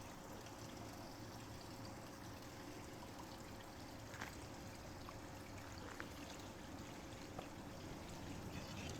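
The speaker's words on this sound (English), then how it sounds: "the sheet of water falling into the pool below" Water pours steadily into a pool, a constant rushing splash with a soft, even texture, fairly quiet.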